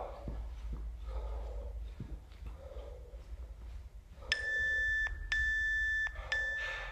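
Background voices murmur during a home bodyweight workout, then a sharp electronic workout-timer beep pattern sounds three times, loud, sustained tones with short gaps between them.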